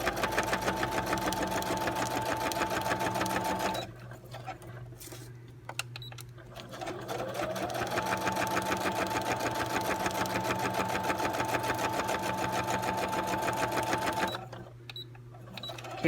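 A sewing machine stitches through card, guided along its presser foot, running steadily in long bursts with a couple of brief pauses where it slows or stops before starting up again.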